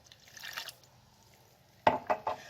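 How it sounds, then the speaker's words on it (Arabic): A cup of water is tipped over cauliflower with fresh coriander, first as a soft rustle, then as three quick close splashes in the final second. "وهحط عليها كوبايه من الميه"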